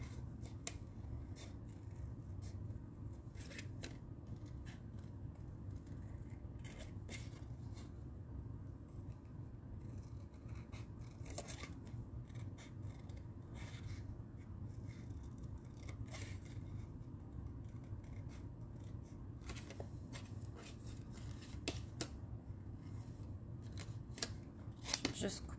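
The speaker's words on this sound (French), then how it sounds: "Faut les couper au ciseau, malheureusement." Scissors snipping through card stock while a Christmas card with a nature circle is being made, a steady run of small close cuts and rustles beneath a constant low hum, with talk at times.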